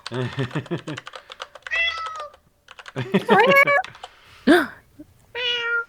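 A person imitates a cat's meow with their mouth, making several separate mewing calls with rising and falling pitch, close and fairly loud, with keyboard typing clicks at the start.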